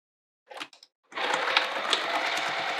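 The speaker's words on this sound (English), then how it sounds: "let's sew along this lower edge now" A sewing machine stitches along the lower edge of a small fabric wallet, starting after a couple of brief mechanical clicks and then running in a steady, fast, close-up mechanical whir with rapid needle ticks.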